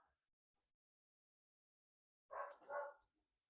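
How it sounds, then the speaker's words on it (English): Two quick barks from dogs sound close together near the end, loud and near, after a long stretch of near silence. "Lord, these dogs, I tell you."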